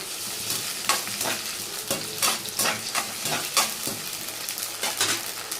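Cardamom and whole spices roasting in a pan as a spoon stirs them, a steady sizzle broken by rhythmic scraping strokes roughly every half second, close and clear with no talking.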